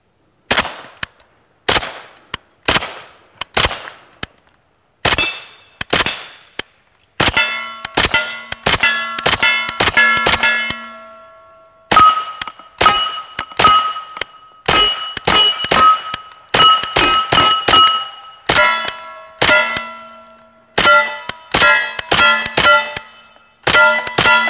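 A Kalashnikov USA KP9 pistol fires a long series of sharp shots at steel targets, each crack followed by a ringing metallic clang, starting as spaced single shots and quickening into rapid strings, close and loud.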